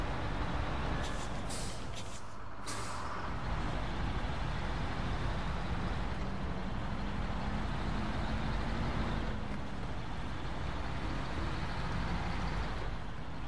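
A heavy truck grinds along in the off-road driving game SnowRunner, a steady low engine rumble with a few sharp hissing bursts early on. The sound stays constant and near throughout.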